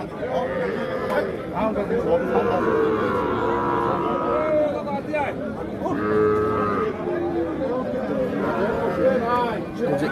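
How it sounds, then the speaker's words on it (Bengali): At a busy cattle market, drawn-out moos from a Sahiwal bull calf sound close by, recurring while a crowd chatters and people talk throughout. "এটা কিন্তু ষাঁড় বাচ্চা"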